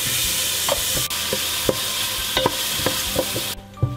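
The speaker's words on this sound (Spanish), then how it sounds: "Estoy cocinando eché las 3 cucharadas de mantequilla, a la cual le voy a agregar la cebolla" Onion cooking in butter over low heat in a pan while making chicken croquettes, with a steady soft sizzle, scattered stirring clicks and scrapes throughout, close and continuous.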